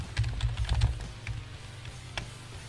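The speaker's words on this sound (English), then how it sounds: "I'll type random women's names." Quick bursts of keys clatter on a computer keyboard, the strikes close and uneven in rhythm, busiest in the first second, then thinning to scattered taps.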